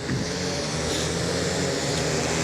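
Several micro sprint car engines roar together at the start of a feature race, revving loudly and rising in pitch as the cars accelerate off the line.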